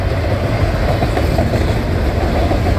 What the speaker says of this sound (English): Oh my goodness, this is a long train.